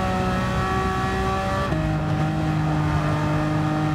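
A Porsche 911 Cup race car in Gran Turismo 7 holds a steady, loud, close engine drone, then drops pitch with a gear change and keeps revving at a constant pace. No voices.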